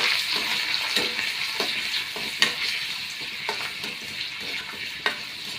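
Rice flour fries in hot oil in a pan with a steady bright sizzle and occasional soft stirring scrapes and taps, close and continuous, with no voices.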